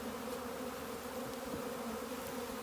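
A quiet, continuous drone of honey bees hums at a package installation as a hive lid slides back on, a faint even buzz with a few soft bumps and no speech.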